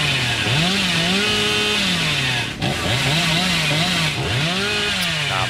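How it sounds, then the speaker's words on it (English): Chainsaw in the Dead by Daylight video game, revving loudly and continuously with wavering, rising and falling pitch sweeps, briefly dipping mid-way before roaring back up. "every hit has been a chainsaw hit"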